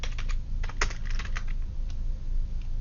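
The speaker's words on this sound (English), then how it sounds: "and I'll just type 86." Fingers tap number keys on a computer keyboard in a quick, uneven run of close, clicky keystrokes, with a steady low hum underneath and no talking.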